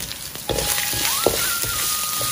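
Asafoetida and turmeric drop into hot oil with a sharp burst of sizzling that continues as a steady crackling fry, with scraping stirring strokes, close and loud.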